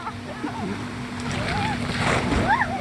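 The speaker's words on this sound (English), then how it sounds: "Oh, that was a good splash one." Water splashes as someone slides into a backyard pool on a rainy summer day, a rising, washing splash with excited children's voices squealing and calling out over it.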